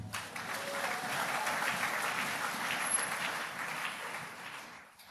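A church congregation claps and cheers together, a dense, even wash of applause that holds for several seconds before fading, with no one speaking.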